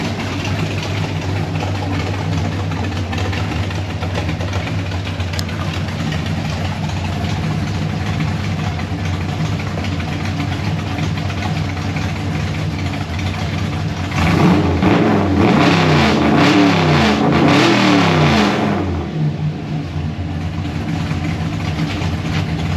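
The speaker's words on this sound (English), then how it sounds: "She's a rowdy little small block." A rowdy small-block V8 on an old-school gasser with straight-pipe, side-exit exhaust and fenderwell headers idles with a lumpy, rumbling burble, then revs sharply for a few seconds and drops back to idle. It is loud and close.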